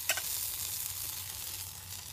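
Eggs sizzle in oil in an M52 French Army mess kit, a short steady crackle heard close up with no talking.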